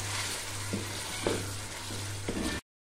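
Onions sizzle and fry in a pan as chicken macaroni is prepared. A steady hiss carries a low hum underneath, with a few soft clinks of stirring and no voices.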